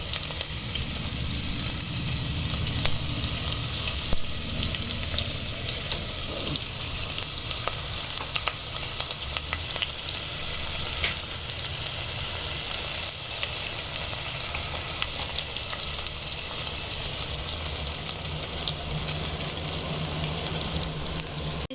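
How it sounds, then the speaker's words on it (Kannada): Onions sizzle and fry steadily in a pan with spices, a continuous crackling hiss with occasional stirring scrapes, close and fairly loud throughout with no talking. "ಈರುಳ್ಳಿ ಇವಾಗ ಹಾಕ್ತಿದ್ದಾರೆ"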